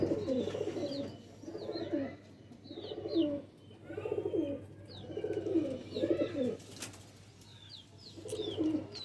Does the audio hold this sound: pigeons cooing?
yes